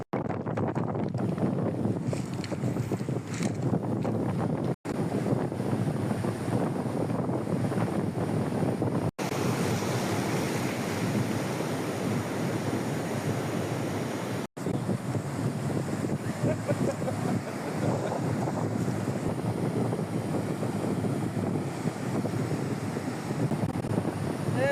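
Rough sea surf and strong wind at a beach form a continuous loud roar with buffeting wind noise on the microphone, steady throughout with a few brief cuts.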